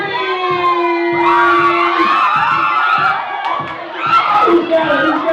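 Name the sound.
wedding guests applauding and cheering after group photo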